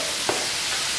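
Food stirred in a hot pot during cooking, with one brief scrape of the spoon over steady sizzling and frying noise.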